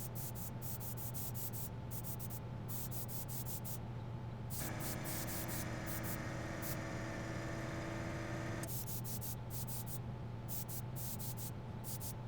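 Black base coat spray paint hisses in long continuous bursts from a can, a steady near hiss with a brief change midway and no talking.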